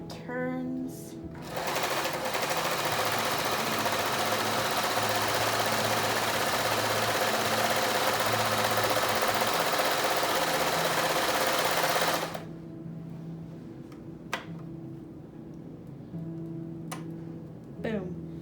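Pedal-driven sewing machine running steadily at close range, a loud continuous mechanical whir for about eleven seconds before stopping, followed by a few faint clicks.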